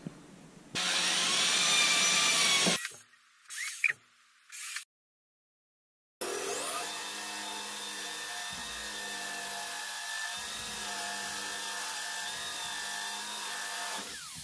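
A power drill bores holes in wood for home-gym stall bars, with a loud burst of drilling, several short stop-start spins, a gap of silence, then a long steady whirring run of drilling nearby.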